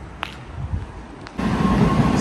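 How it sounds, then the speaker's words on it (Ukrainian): A tram departing along a street in Prague rumbles and rises into a louder, steady rolling roar partway through, with street ambience around it. "Поїхав трамвайчик."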